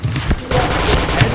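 Rapid gunfire bursts in the shooter video game Point Blank, loud clustered shots and impacts back to back, with a voice talking over them.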